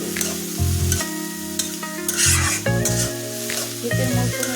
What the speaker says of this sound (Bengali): এটা আমি ভালোভাবে নাড়াচাড়া করে দেবো। ভাজি এটা রান্না করবো না, শুধু ভাজি করবো।